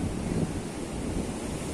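Large ocean waves surge against a damaged seawall on the coast at Cilacap, Indonesia, a steady loud roar of surf blended with heavy wind noise and no talking.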